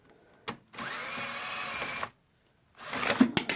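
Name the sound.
power tool removing 5/16 bolts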